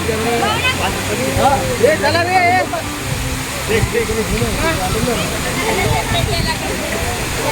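An artificial waterfall pours over rocks in a park, a steady rushing flow heard close by beneath almost continuous voices of people chatting nearby.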